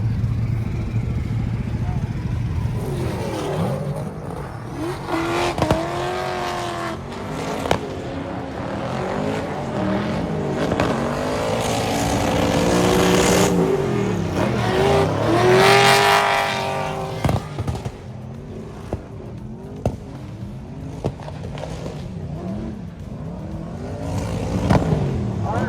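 A car with an LS3 V8 runs and revs at Holley LS Fest East, with harmonic engine tones rising and falling through repeated blips, crowd and event noise around it, and a voice talking intermittently underneath.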